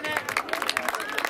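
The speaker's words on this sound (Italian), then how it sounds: "Facciamo un applauso forte" An audience applauds at an evening award event in Casola di Napoli, a short, soft burst of scattered clapping heard from a distance.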